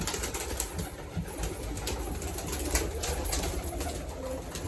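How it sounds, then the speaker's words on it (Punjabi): Soft pigeon cooing blends with a busy outdoor bed of fluttering and pecking, continuous and moderately loud throughout. "ਦਾਣੇ ਕਬੂਤਰਾਂ ਦੇ ਪੈ ਗਏ ਤੇ ਉਧਰ ਛੋਟੀਆਂ ਨੂੰ ਵੀ ਪਾਤੇ ਦਾਣੇ ਕਬੂਤਰ ਆਪਣੇ ਲੱਗ ਪਏ ਹੁਣ"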